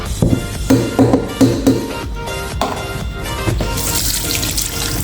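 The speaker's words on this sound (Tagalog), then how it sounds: "hugasan lang natin yan ng kahit na isang beses lang" Cut beef fat rinsed under a running kitchen tap, with a steady rush of water that splashes unevenly as the pieces are handled and turned, close and fairly loud, with no talking.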